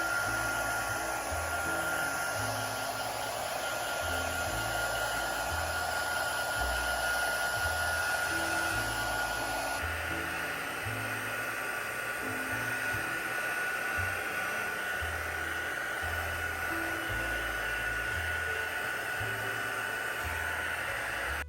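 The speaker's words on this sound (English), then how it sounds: "what you'll need to do is use a heat gun. So I am going to heat this up real quick." A heat gun blows hot air steadily and loudly up close for the whole stretch, warming a piece of a DIY mini crystal Christmas tree, with a slight change in tone partway through and no talking.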